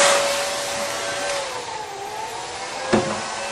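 A heat gun blows a steady, loud hot-air hiss while shrinking wrap-around heat shrink tubing, with a faint drifting whine and a brief bump near the end, no talk.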